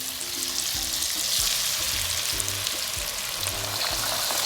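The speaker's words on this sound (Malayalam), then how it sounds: "ഇപ്പോൾ എണ്ണ ചൂടായി കഴിയുമ്പം നമുക്ക് ആ ബീഫ് ഫ്രൈ ചെയ്തെടുക്കണം ആദ്യം." Beef pieces for Mongolian beef fry in hot oil, giving a loud, steady, dense sizzle that runs the whole time, with faint low knocks from the pan underneath and no talking.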